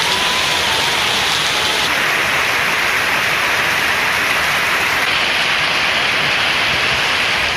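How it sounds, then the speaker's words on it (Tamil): Heavy rain falls over the Sirkazhi area of Mayiladuthurai district in Tamil Nadu, a loud, unbroken hiss of downpour with no voices. "கனமழை பெய்து மக்களை குளிர்வித்தது"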